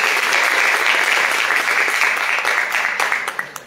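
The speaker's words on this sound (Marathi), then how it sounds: "एकदा जोरात त्याच्यासाठी टाळ्या वाजवूया" Loud, dense applause from an audience at a Marathi music concert, sustained clapping that thins toward the end into a few scattered claps.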